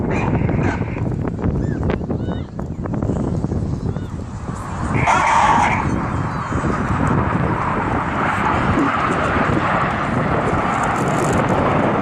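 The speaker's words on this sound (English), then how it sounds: "celebrating the Tornado Bomber Force, this is Tornado." A Tornado jet bomber passes at an air show, its engines a loud, broad, steady roar that swells midway as the aircraft goes by. A commentator's voice runs over it.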